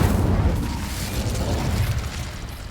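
Incendio fire spell from Hogwarts Legacy, a dense whooshing burst of flame with a low rumbling roar that swells and holds for a couple of seconds, loud and close.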